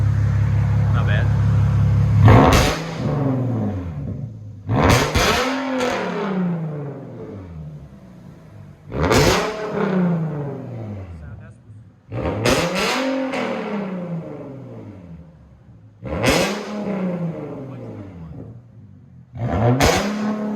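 A 2010 Nissan 370z with a titanium exhaust is revved about six times in close succession. Each rev jumps from idle to a sharp, loud roar and then falls back to a low rumble.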